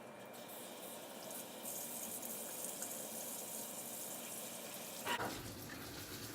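Tap water runs steadily from a faucet to water potted orchids, a continuous close hiss that brightens partway through, with a brief splashy burst near the end and no talk.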